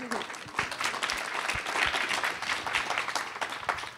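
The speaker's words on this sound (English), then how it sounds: "yes, you can applaud for that. Go ahead." Audience applause at a conference panel on LGBTQ leadership, steady clapping from a room of listeners lasting several seconds with a voice speaking over it.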